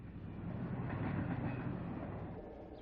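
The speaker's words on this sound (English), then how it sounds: "see train number 368, the Motor City Special, with a running meet as the trains pass Town Line Cabin" Diesel trains, including the Motor City Special number 368, rumble past Town Line Cabin in a running meet, a steady heavy roll with faint rail clatter.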